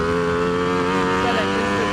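A 2019 Ducati V4S superbike engine pulls hard on throttle, a steady loud high-revving drone with rising pitch, heard close from the rider's position with wind noise.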